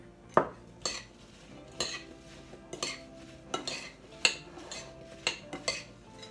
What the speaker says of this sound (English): I'm going to mix these ingredients up once again